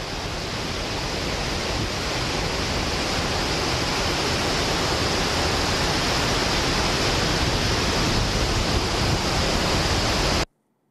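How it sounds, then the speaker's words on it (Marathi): Floodwater roaring out of the opened gates of the Hatnur dam into the Tapi river during heavy monsoon rain, a massive discharge of about 125,000 cusecs, heard as a steady, loud, unbroken rushing roar that cuts off abruptly at the end. "हातनूर धरणातून पाण्याचा विसर्ग हा वाढलेला आहे"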